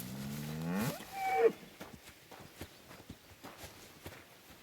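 A cow in Kingdom Come: Deliverance 2 gives one drawn-out, unhappy moo, followed by a run of regular hoof-like footsteps plodding at moderate volume.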